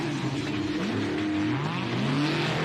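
The Bentley off-road race car, number 1018, revs hard at a desert race, its engine pitch sweeping up and down in loud, sustained wails close by, with no voices.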